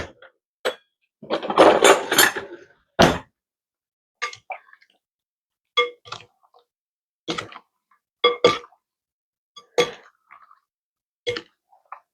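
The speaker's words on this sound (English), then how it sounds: "we're going to get our tongs here, mix it all up" Tongs mixing soy-garlic chicken with rice and vegetables, a series of separate close clinks and wet scraping knocks spaced irregularly, with one longer rustling stir.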